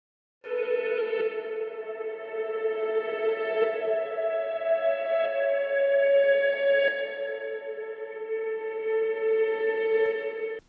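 A sustained, ringing guitar chord loop drones for about ten seconds, washed in automated echoing reverb that swells and shimmers around it.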